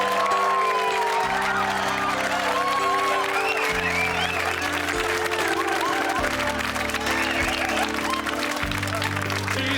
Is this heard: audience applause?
yes